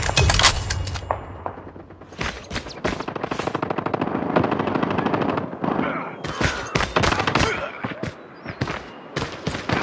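Near-constant automatic gunfire in Call of Duty, loud and dense with rapid machine-gun bursts, scattered single shots and sharp cracks running the whole time, heard with no clear talking.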